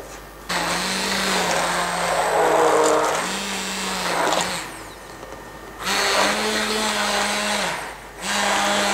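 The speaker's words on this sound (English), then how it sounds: "you can always blend it together" A blender purees onion sauce in loud whirring bursts, two long runs and a shorter one separated by brief pauses, close up with no talk.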